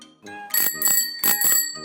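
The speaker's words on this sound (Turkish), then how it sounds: "Bisikletin zili işte böyle çalar." A bicycle bell rings in quick bright double chimes, repeated twice, loud and close with a ringing metallic tone.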